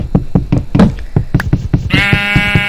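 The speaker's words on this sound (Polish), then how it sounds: "owca czarna" Minecraft sheep bleat in a game, repeated short blocky sounds in quick succession, ending with a longer bright tone.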